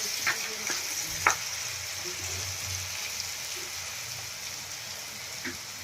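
In a pan of potato poha base, sugar and lemon juice are stirred into the mixture, giving a soft, steady sizzle with a few faint scraping clicks.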